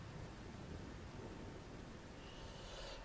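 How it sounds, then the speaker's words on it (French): Steady rain hisses in the Ghost Recon video game, a dense, even wash of falling water with faint low rumbling underneath and no voices. "la pluie, elle me dérange"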